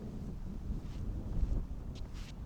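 Wind buffets the microphone on a lake bank on a clear, gusty day, a low rumbling roar that swells and eases, with faint rustling in the background.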